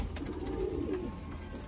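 Pigeons coo softly and continuously at moderate distance, a low murmuring rise and fall near a loft of domestic fancy pigeons.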